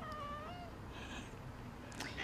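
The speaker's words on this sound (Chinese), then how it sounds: "小葵是我的小猫咪。" A cat meows close by, with a drawn-out wavering cry in the first half-second, then fainter mewing and a brief sharp sound near the end, with no talking.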